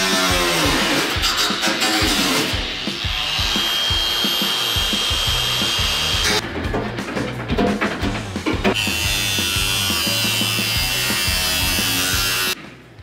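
A power tool cuts into a metal fender during fabrication of custom rock sliders, a loud buzzing whine that stops and restarts in bursts, close up with no talk.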